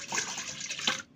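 Ice-cold water pours briefly into a container while making whipped cream, a short, steady splashing rush heard close and alone.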